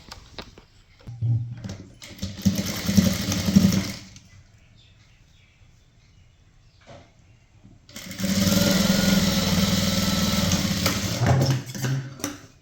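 A sewing machine stitches the shoulder seam of a zip nighty, whirring in two close bursts of steady running with a quiet pause between them.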